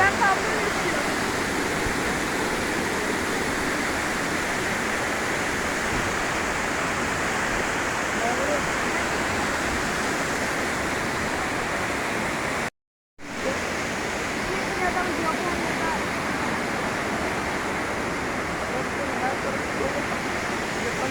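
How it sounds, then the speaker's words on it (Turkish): A large waterfall pouring into a cold stream at Gölyaka, Düzce, heard up close as a steady, loud, broadband roar that continues unbroken except for one brief dropout. "Bayağı bir büyük şelale."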